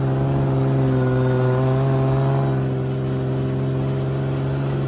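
A sand car engine runs on the dunes with a loud, steady, close-up drone and a rough, even throb that eases slightly partway through.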